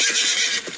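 A horse neighs in one brief, loud whinny close at hand, with the sound dropping away toward the end of the call.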